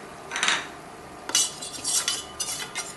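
Garlic being sautéed in a pan for tomato soup, with a few bursts of utensil scraping and clinking against the pan over a faint background, no voices.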